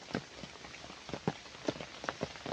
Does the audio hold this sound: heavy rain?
yes